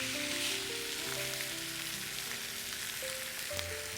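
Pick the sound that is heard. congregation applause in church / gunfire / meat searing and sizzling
meat searing and sizzling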